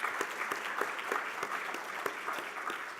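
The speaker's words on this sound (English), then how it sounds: "Please give them a big round of applause." Steady audience applause at the closing of a healthcare conference in the Cayman Islands, thanking volunteers; dense, even clapping from a mid-sized crowd, sustained without talk.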